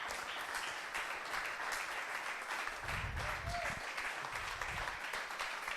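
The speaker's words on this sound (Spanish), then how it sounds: "Bríndale fuerte aplauso al Señor." A church congregation claps loudly and steadily for several seconds in a worship service, with cheering voices rising partway through.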